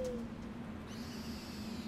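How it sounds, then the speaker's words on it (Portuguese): Owl call in the prehistoric game Far Cry Primal, a soft hooting tone that sits over a steady low ambient hum, fairly faint and brief. "Vamos chamar a coruja."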